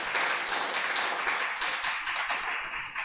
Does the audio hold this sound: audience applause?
yes